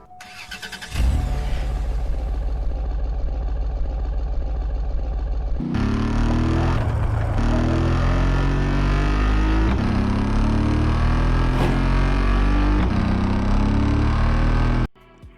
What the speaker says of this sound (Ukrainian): Вихлоп тут ну просто ай-яй-яй, послухайте.